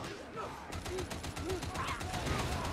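Lasgun fire in Warhammer 40,000: Darktide: a rapid, steady volley of sharp crackling shots, quiet in the mix, with someone talking over the shooting.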